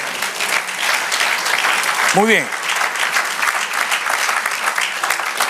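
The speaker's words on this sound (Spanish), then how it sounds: "Denle aplauso al Señor." A church congregation applauds steadily for several seconds during a Spanish-language sermon, the clapping close and dense, while someone briefly speaks over it.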